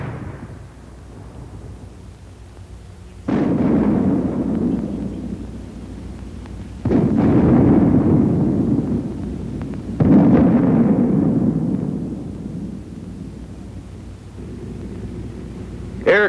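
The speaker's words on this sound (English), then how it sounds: "The mortar also fires smoke shell." Mortar shells, including smoke rounds, explode in three heavy booming blasts spaced a few seconds apart, each followed by a long rumbling decay over a low background.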